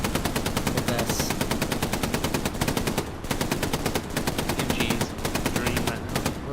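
Machine gun fire in the video game Hell Let Loose, a long, rapid, evenly spaced stream of loud shots with one brief pause around three seconds, close and dominant.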